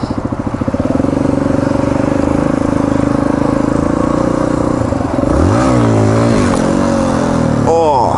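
A cold dirt bike engine running close by, a loud steady putter that dips and then revs and wavers near the end, with a voice speaking over it.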